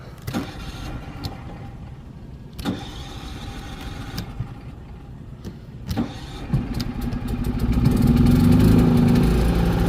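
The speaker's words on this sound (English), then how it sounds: "Let's start up the generator right quick." A gasoline generator aboard a 1991 Toyota Winnebago Warrior RV starts up. Scattered clicks and knocks from the controls come first, then the engine catches and settles into a loud, steady running hum near the end.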